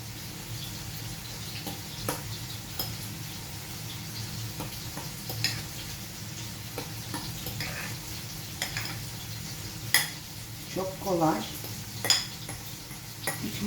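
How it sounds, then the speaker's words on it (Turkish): Cooked tomatoes and peppers stirred in a sizzling pan, a spoon scraping and clinking against the metal over a steady fry, with louder knocks toward the end. "Şimdi şöyle bir karıştıralım, harmanlayalım"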